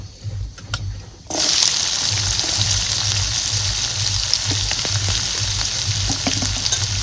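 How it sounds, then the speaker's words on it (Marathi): Chopped onion hits hot oil already sizzling with cumin and mustard seeds, bursting into a loud, steady broadband frying hiss that continues without a break, with faint low hum beneath. "आता ह्याच्यात टाकायचा चिरून घेतलेला कांदा"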